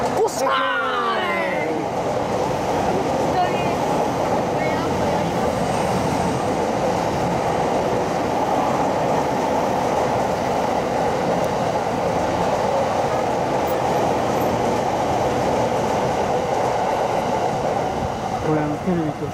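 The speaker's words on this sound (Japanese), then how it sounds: "あー来るね新幹線" JR trains pass close by near Nippori Station as a Shinkansen approaches. A loud, continuous rumble and rolling rail noise fills the whole stretch, with voices talking faintly underneath.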